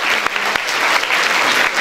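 A literary festival audience breaks into a huge round of applause, dense steady clapping from many hands filling the room loudly without pause.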